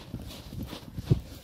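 A young English thoroughbred foal walks through deep mountain snow, its hooves landing in soft, muffled, rhythmic thuds close by against a faint background hiss.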